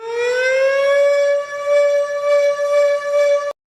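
A Cero drone siren sounds loud and alone, its tone rising to a steady, piercing wail with a slight wobble before it stops abruptly.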